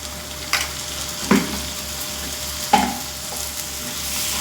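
Low, steady sizzle from a pan frying onion, ginger and garlic paste, with a few scraping stirs and light knocks of a spoon against the metal. No talking.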